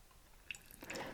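Water trickles and drips out from beneath a vermiculite sample as the outflow begins, quiet at first, then rising into a soft, steady splashing trickle.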